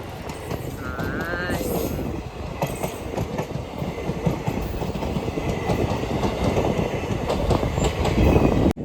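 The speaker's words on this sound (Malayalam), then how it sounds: "ഏതോ ഒരു ട്രെയിന് ടിൻസുക്കിയിലാരും പോകുന്ന വണ്ടിയാന്ന് തോന്നുന്നല്ല" A train rumbles past nearby in Mariani, Assam, with rhythmic clattering of wheels over the rails, steady and building louder toward the end.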